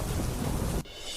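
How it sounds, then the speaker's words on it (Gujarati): A heavy downpour in Deesa, Banaskantha, pours as a dense, loud roar, then cuts off abruptly to a quieter background; no distinct thunder clap stands out. "બનાસકાંઠાના ડીસામાં ધોધમાર વરસાદ."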